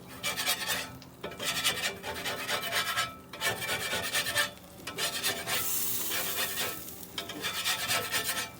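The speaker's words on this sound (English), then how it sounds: "Scrape this grill real quick." Metal scraper rasping across a Blackstone griddle top outdoors in the snow, a loud, steady scraping in long strokes with brief pauses between passes.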